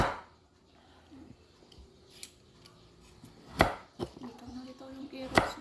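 A knife cuts vegetables such as carrots for chop suey on a board in a home kitchen, several sharp separate chops spaced unevenly against quiet background noise.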